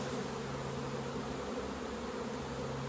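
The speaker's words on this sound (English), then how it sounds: "Push those bees down a little bit." Honeybees buzzing steadily in an open hive during autumn beekeeping, a dense continuous drone that fills the space close by and stays level, with no voices present.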